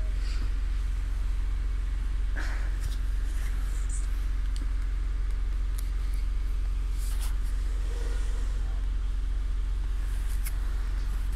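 Interior of a fairly new bus on the move, a steady low engine rumble and road hum running continuously, with faint rattles and small knocks throughout and no talking.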